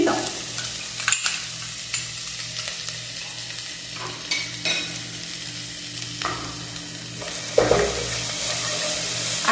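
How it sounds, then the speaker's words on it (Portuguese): Onion and bell pepper frying in garlic in a pan, a loud steady sizzle broken by a few scraping stirs and clinks, close up with no talking. "Agora eu vou deixar essa cebola e esse pimentão fritar aqui por alguns minutinhos, até dar uma murchada"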